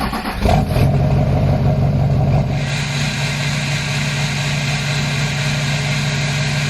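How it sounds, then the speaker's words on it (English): A truck engine cranks over from cold and catches, jumping to a loud, rough, rumbling idle that holds steady and close for several seconds with no voices. "Let's go and get a cold start on the truck."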